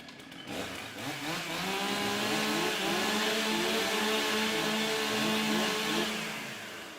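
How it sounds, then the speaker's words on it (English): A STIHL chainsaw warms up at a timbersports competition, its engine revving loudly and steadily for several seconds with rising and falling pitch, close by and alone. "All right, warm up your saw."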